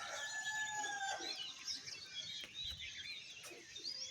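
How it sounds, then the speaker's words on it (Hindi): Birds call in a quiet village among bushes, with a rooster-like crow and scattered chirps and clucks at moderate distance over a hushed rural background. "सारा जो गांव है वो अभी शांत है एकदम, इसलिए पंछियों की आवाज़ बहुत अच्छी आ रही है।"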